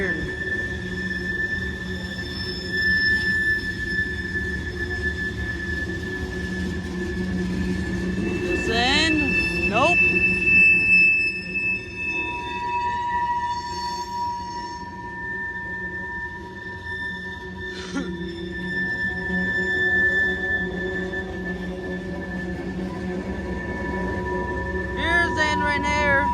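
A CSX freight train hauling 131 loaded coal cars rolls steadily past close by, its wheels grinding with recurring high metallic squeals, while a person speaks briefly over the steady rumble.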